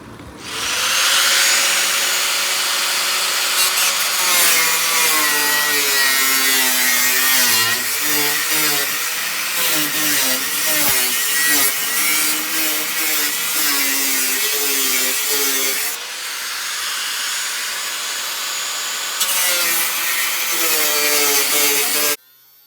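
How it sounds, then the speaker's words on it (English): An angle grinder cuts through a camper van's metal panel to make a window opening, a loud continuous high-pitched whine with shifting pitch as the disc bites, running nearly without pause and easing off briefly once. "I did decide to do the straight lines, if you like, with the angle grinder."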